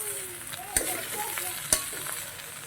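Jackfruit cooking with liver sizzles in a pan, a constant close frying hiss punctuated by two sharp utensil clicks.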